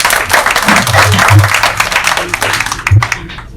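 Audience applause at an Urdu mushaira in Houston welcomes a poet, with loud, dense clapping from a crowd mixed with low murmuring voices, tapering off toward the end.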